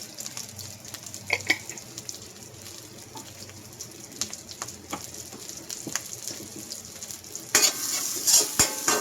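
Dried garlic sautéing in a pan, a soft continuous sizzle with crackles and stirring clicks, then a louder burst of hissing near the end, close with no talking.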